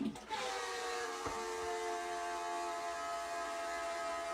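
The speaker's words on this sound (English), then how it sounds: "Somebody tell me why my toilet sounds like this." A household toilet gives off a steady, loud whining drone like a power drill, with sustained tonal bands holding unbroken for several seconds and no talking over it.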